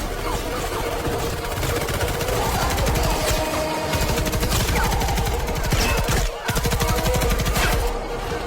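Dense, rapid gunfire from a helicopter in an action film scene, loud and continuous bursts over a rumbling background for the whole stretch, with a brief dip near the end.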